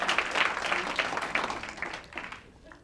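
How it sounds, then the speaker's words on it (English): Dinner guests at an annual PTA Founder's Day awards dinner applaud, a broad patter of many hands that fades toward the end. "Let's please give them all a round of applause"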